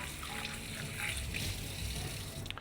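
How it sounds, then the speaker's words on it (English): Tap water runs steadily while hands are rinsed in a kitchen during seafood casserole prep, a continuous close splashing trickle with faint voice traces. "rinse my hands off."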